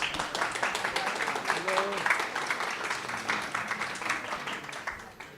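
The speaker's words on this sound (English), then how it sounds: "It's not often you get like applause before you speak." Audience applause at an evening book talk with an author, a steady, dense wash of clapping that holds throughout and fades slightly at the end.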